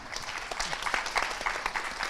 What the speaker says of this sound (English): Can I ask the audience to join me to give a round of applause for our 4 speakers?